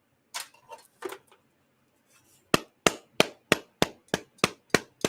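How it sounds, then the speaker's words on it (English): A knife tapped against a 2x4 wood board held in a vise, a few uneven knocks at first, then a regular series of about nine sharp, close wooden taps. "I was just tapping it with the knife, just like literally like this, about this hard."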